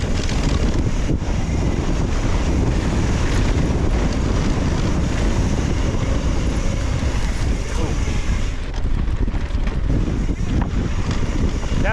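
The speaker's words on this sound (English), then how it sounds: "Really windy out today," Strong wind roars continuously into the microphone while mountain biking on a trail in Boise, a loud, steady rumbling buffet with no pauses across the whole stretch.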